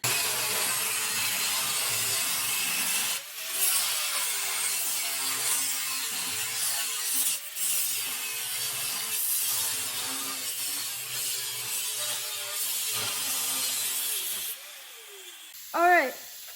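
A saw cuts down through metal square stock for a paint rack, a continuous close hissing grind that shifts slightly in pitch as it bites. A brief squeal comes near the end.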